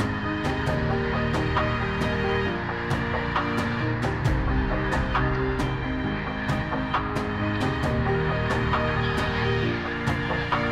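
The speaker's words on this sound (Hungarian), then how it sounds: "A félénk madárként ismert vadludak tízezrei a város szívében szinte" Tens of thousands of wild geese massed at the Old Lake in Tata, Hungary, a dense, continuous din of overlapping honking calls with sharper individual cries standing out throughout.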